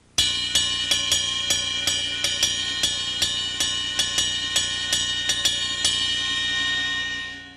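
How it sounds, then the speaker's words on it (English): A drummer plays a Latin mambo cowbell pattern on a cymbal, a steady syncopated run of bright metallic pings over a sustained shimmering wash, close and alone. "I'm going to play a Latin Mambo cowbell pattern,"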